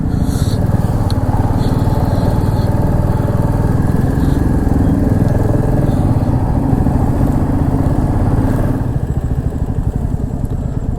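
A Royal Enfield motorcycle engine runs steadily on a cold mountain road in East Sikkim, a loud, continuous thumping drone close by that holds without a break for the whole stretch, with no voices over it.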